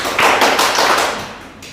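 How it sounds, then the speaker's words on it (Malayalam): An audience claps at a speech training session, a short burst of several quick claps that fades within about a second and a half. "എല്ലാവരും ക്ലാപ്പ് കൊടുക്കുക"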